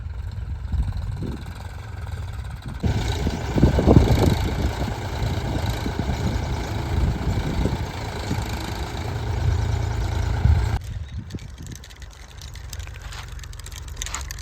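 A tractor working a stony farm field runs with a steady, close engine rumble. It holds a constant idling-like drone, with a brief change in tone near the end.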